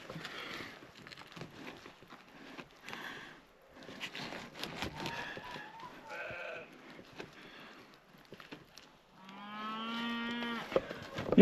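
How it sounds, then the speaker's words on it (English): Hungry cows on a farm moo at a moderate distance, with scattered calls early on and a long, loud moo near the end, amid faint background clatter. "You can hear the cows are hungry."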